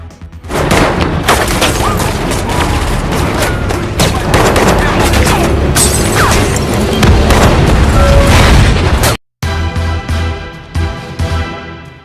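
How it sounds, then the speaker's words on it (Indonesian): Loud, dense gunfire with heavy booms and explosions from a film battle sequence in Olympus Has Fallen, with an assault on the White House, continuous blasts, then a brief dropout before more shooting resumes. "Adegan tembak-menembak yang begitu seru membuat si boy mengecilkan speaker"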